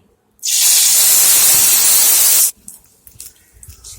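Dried fish dropped into hot mustard oil gives a sudden loud, steady sizzle that stops abruptly after about two seconds, leaving faint kitchen clatter.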